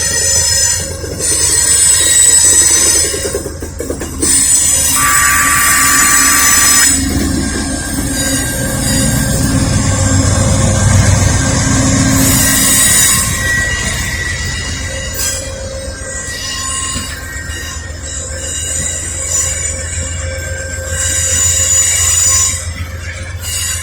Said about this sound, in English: Amtrak Northeast Regional, westbound to Norfolk, Virginia, the last stop.